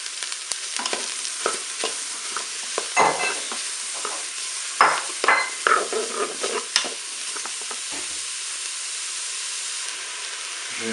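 Mushrooms sizzle and fry in a Cookeo multicooker pot with sautéed onions while a utensil stirs them, giving a loud steady hiss broken by clattering scrapes, close up and with no voices.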